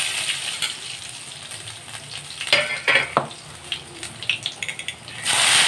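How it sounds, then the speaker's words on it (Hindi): Steady sizzling of cumin, bay leaf, garlic, black pepper and cloves frying in hot oil, with crackles and pops and occasional stirring clinks, close and fairly loud throughout. "तेल गर्म हो गया तो जीरा, जीरे के बाद तेज़पत्ता"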